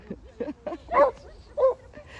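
A dog yips and barks in five short, separate bursts over about two seconds, the fourth and fifth the loudest, close by with no talking.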